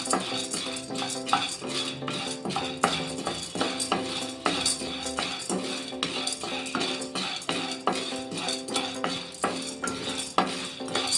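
Roasted gram (hurigadale) dry roasting in a pan while being stirred, with steady close metallic scraping and clinking of a utensil against the pan and no talk.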